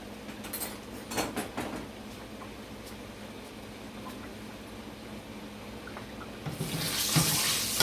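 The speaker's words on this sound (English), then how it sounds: "wash off the sauce off my hand" Water runs from a kitchen tap while sauce is rinsed off a hand, first as a few splashy bursts, then a steady flow that swells into a loud, full rush toward the end.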